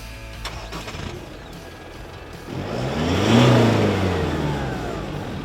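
Isuzu D-MAX engine revving through a King Brown 3-inch exhaust, a brief idle followed by a rising, swelling rev that peaks loudly and eases off slowly, heard up close with no talk.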